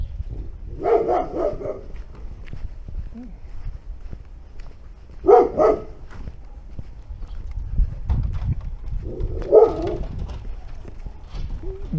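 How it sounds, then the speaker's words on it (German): A dog barks in three separate bursts spaced a few seconds apart, moderately close, over a low outdoor background rumble in a quiet residential area of Novosibirsk, Siberia. "Der Hund bellt, wenn ein Fremder kommt."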